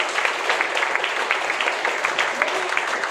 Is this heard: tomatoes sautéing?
no